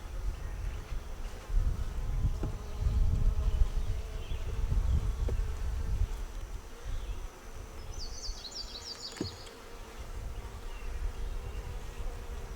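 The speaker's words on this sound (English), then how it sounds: "Those bees are having a feast, aren't they?" Steady buzzing of many bees close by at a hive during feeding, a continuous low drone with a few brief louder passes and a faint bird chirp.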